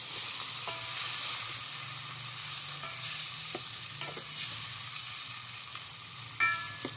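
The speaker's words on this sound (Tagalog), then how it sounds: "Gigisahin ko muna ng kaunti ang kamatis" Tomatoes sautéing in a hot pan over a raised flame, with a steady sizzle and occasional stirring clinks and scrapes close by, for sinigang with salmon head.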